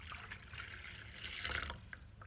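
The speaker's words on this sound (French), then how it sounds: "vous versez l'eau." Cold tap water pours into a bowl for homemade pizza dough, a soft continuous trickling and splashing heard close and faint.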